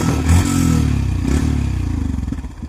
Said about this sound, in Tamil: இது வந்து வண்டியோட ஐடியல் சவுண்ட் இப்போ ஓடிட்டு இப்போது